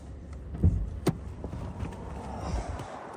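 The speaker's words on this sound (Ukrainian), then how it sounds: "Бачимо, як тихо машинка працює" A Volkswagen B7 with an automatic gearbox idles quietly, giving a soft, steady low hum with a couple of brief clicks near the start and no one speaking.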